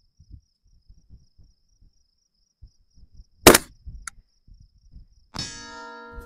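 A single sharp rifle shot rings out, followed about two seconds later by a distant metallic clang as the bullet strikes a steel plate downrange at roughly 1,020, with the ring lingering.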